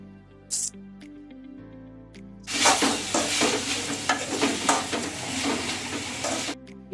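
Cabbage, beans, carrot and capsicum hit a hot pan for egg fried rice, bursting into a loud, close sizzle and stir-fry clatter that lasts several seconds after soft tonal background sound, with no speech.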